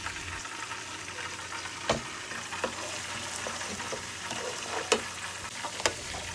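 Tomato puree sizzling in a pan over browned minced onion for a homemade spaghetti sauce, a steady moderate frying hiss broken by a few sharp stirring clicks and pops.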